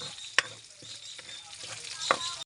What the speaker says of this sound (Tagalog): At igigisa na nga pala natin yung bawang at saka bawang.